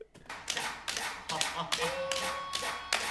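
An audience claps in a strong rhythmic pattern, loud bursts of many hands striking together roughly every half second, with a sustained tone running briefly underneath.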